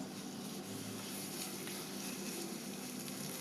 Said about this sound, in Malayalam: ഇതിലേക്ക് മാരിനേറ്റ് ചെയ്ത് വെച്ചിരിക്കുന്ന ചിക്കൻ ചേർത്ത് ഒന്ന് ഷാലോ ഫ്രൈ ചെയ്തെടുക്കാം